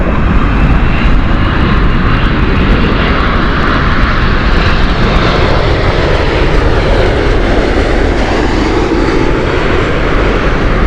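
Airliner engines roar loudly and continuously at a Heathrow Airport runway, a dense, sustained jet rumble that holds steady with no talk over it.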